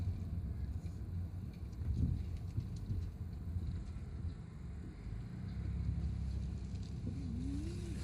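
Cars passing each other on a narrow road near Padang Panjang, heard from inside a vehicle as a steady engine rumble with wind and road noise and a brief swell of a passing car, fairly loud and continuous.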